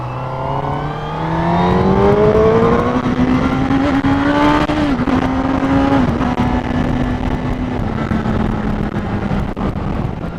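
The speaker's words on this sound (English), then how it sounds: "this has got a lovely growl to it through that exhaust." A 2018 Honda CBR1000RR SP Fireblade sport motorcycle engine growls steadily through its exhaust, its pitch rising as it revs up and then holding at a throaty drone, loud and close with no voices.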